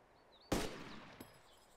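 A gunshot fired at a zombie in a video game rings out once, loud and sharp, then a fainter second report follows a moment later against a quiet background.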